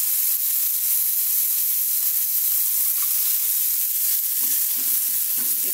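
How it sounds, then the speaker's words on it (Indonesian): Onion sautéing in a pan for a simple soup, a steady broadband sizzle with frying hiss, stirring and a few soft scrapes near the end, close and continuous with no talking. "Kita tumis lagi sampai bawang bombaynya layu dan harum"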